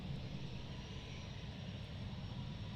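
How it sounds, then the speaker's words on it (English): A KLM airliner departs runway 36 left at Amsterdam Airport with a steady, broad engine roar that holds evenly throughout, moderately distant. "departing off runway 36 left, we have KL1201 going to Stavanger"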